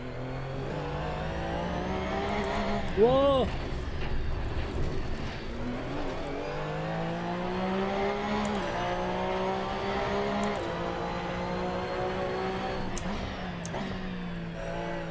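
A DTM race car engine in Assetto Corsa revs hard and sustains a steady, high-pitched drone, rising and falling through gear changes with a brief sharp whine early on and a short exclamation over it.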